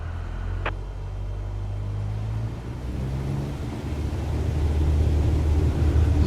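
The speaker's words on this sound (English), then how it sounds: "Apply full power, and I'll walk you through the takeoff as we go." In a video game flight simulator, an aircraft engine is run up to full power for takeoff, a steady loud drone that builds gradually and grows heavier toward the end, with no talking.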